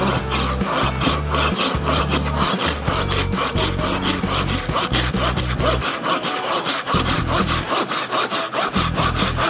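A Silky GomBoy Japanese folding hand saw with a 210 mm blade rasps back and forth through dry wood in quick, steady strokes, loud and close, with brief pauses between bursts.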